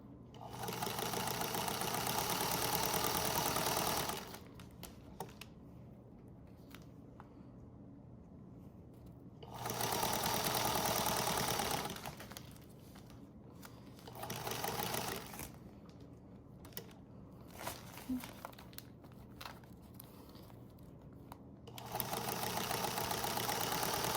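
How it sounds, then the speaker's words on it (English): A sewing machine runs in several steady whirring bursts, stopping and restarting, while stitching binding along the edge of a hospital gown; quiet handling sounds fill the pauses. "Take your first pin out so you don't sew over it, and start sewing"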